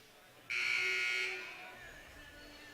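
A scoreboard buzzer blares at a varsity boys high school basketball game, one loud sustained tone lasting about a second before fading into faint gym ambience.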